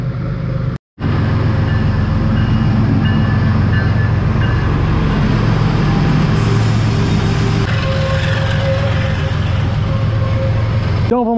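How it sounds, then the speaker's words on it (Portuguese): Steel rails on a long railway bridge rattle and rumble continuously as a train approaches, a loud, steady metallic drone with a brief cut near the start. "Olha o barulho que o trilho começa a fazer quando o trem tá se aproximando."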